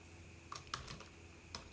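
Computer keyboard typing while text is entered on a WordPress page: a few quiet, separate key clicks in an irregular rhythm, close and soft, with no talking.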